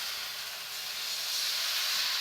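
Water splashed into a pan of sizzling chicken cubes sets off a loud, steady, bright hiss of steam that swells slightly toward the end.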